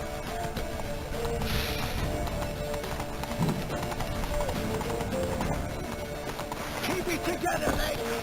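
Horse hooves gallop steadily in The Witcher 3: Wild Hunt, a continuous run of clip-clop beats beneath a dense game soundscape of music and effects, with brief voices over the top.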